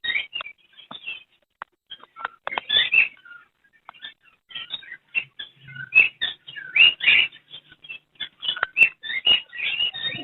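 Caged pet birds at a Sunday bird market, including lovebirds, chirp and tweet in quick, dense bursts, many calls overlapping close by with no talking.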